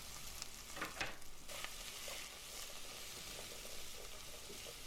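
Roughly chopped onion, celery and carrots sizzle steadily in leftover oil in a pan, a soft, constant frying hiss with a few faint clinks.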